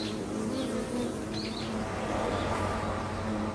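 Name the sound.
wasp wings buzzing near a beehive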